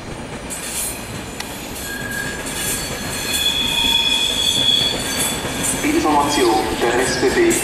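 A Swiss commuter train rolls through a Zurich station, wheels squealing at high pitch over a steady rumble that grows louder, with a voice faintly audible underneath.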